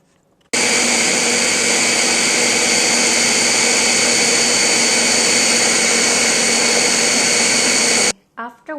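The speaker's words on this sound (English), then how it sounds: "Blend it until smooth, approximately 1 minute." A kitchen blender runs steadily at high speed, whirring loud and constant while pureeing cooked mung beans with a coconut mixture for a Vietnamese steamed dessert, then cuts off abruptly near the end.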